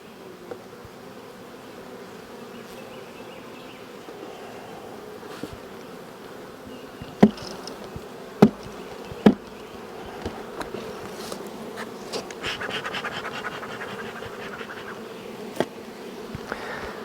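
Honey bees buzz steadily around a beehive, a continuous low drone with a few sharp knocks and brief clicks scattered through the middle and a slightly busier, brighter stretch toward the end.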